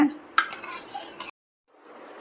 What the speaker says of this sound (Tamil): ஏலக்காய் சேர்த்துட்டு இந்த மாதிரி கலந்து விட்டுக்கோங்க